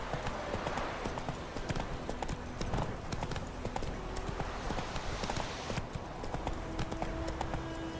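Horse galloping in The Witcher 3 video game, a loud, continuous rapid clatter of hoofbeats filling the whole stretch with no pause.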